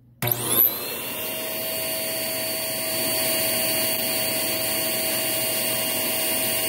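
A Filtropur FC F3000 vacuum motor starts up with a whine and settles into a loud, steady high-pitched roar during an airflow test, running alone.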